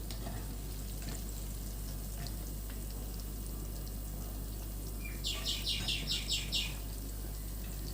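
Prawns deep-frying in hot oil give a steady, close, broadband sizzle that keeps going throughout with no voices, while a short run of bird chirps rises briefly near the end.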